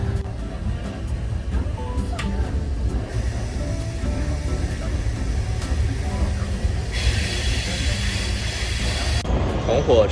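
An old green-carriage passenger train rumbles and clatters along on the way to the airport in Casablanca, a loud steady interior rumble with hissing, and people talk over it.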